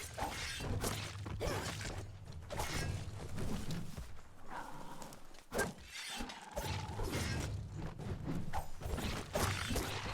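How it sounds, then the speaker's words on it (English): Weapon reload in the video game Biomutant: a run of mechanical clicks and ratcheting clacks buried in a dense, busy mix of game sound effects. "I think that's a reload"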